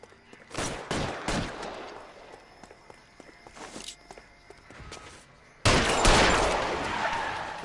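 Gunshots in L.A. Noire, several sharp cracks ringing out in an uneven sequence amid footstep-like thuds, followed by a louder burst near the end.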